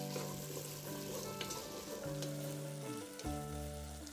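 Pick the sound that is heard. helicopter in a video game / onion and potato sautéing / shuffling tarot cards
onion and potato sautéing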